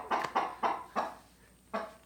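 Chickens cluck in four quick close bursts followed by a pause and one more cluck, near and moderately loud with nothing else over them.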